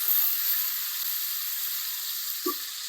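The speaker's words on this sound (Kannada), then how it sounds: "ಎಣ್ಣೆಗೆ ನೀವು ನುಗ್ಗೆಕಾಯಿನ ಹಾಕೊಳ್ಳಿ. ಇನ್ನೊಂದು ನೀಟಾಗಿ ನುಗ್ಗೆಕಾಯಿನ ಹುರ್ಕೋಬೇಕಾಗುತ್ತೆ." Moringa drumsticks frying in hot oil in a home kitchen, a steady fine sizzle and hiss running throughout, with a brief soft stir or clink near the end.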